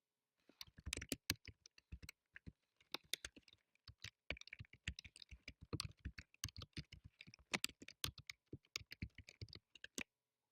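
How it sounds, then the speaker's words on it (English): Close, quiet typing on a computer keyboard with irregular rapid keystrokes and short pauses, with no voices over it. "Next, type in a password and email address."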